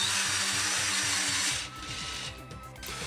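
A power drill drives screws into ceiling hangers during a renovation, its motor whirring loudly in steady bursts that pulse repeatedly, then continuing at a somewhat lower level with a rougher, uneven grind.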